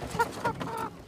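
Grown chicks on a mountain village chicken farm give short, close clucks, with two distinct calls in just over a second against a low background hum.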